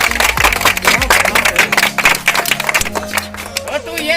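Loud, rapid applause from an audience at a village magic show, sharp claps bursting in dense clusters throughout, with a voice talking over them and a low musical drone underneath.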